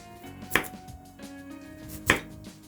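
A knife chops carrots into large chunks on a cutting board while braised short ribs are being prepared: two sharp, distinct strikes about a second and a half apart, with low room hum between them.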